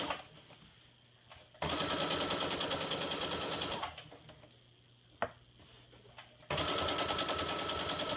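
A sewing machine stitching an apron seam, running in loud, fast, even bursts and then pausing quietly in between, close by and with no talking.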